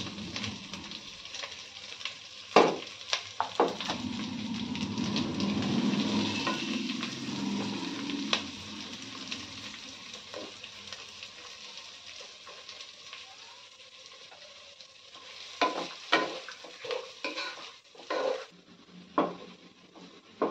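Chopped onions hit a hot pan of whole garam masala spices while cooking mutton rezala, sizzling steadily with intermittent sharp clinks and scrapes of a spoon stirring against the pan, close and fairly quiet.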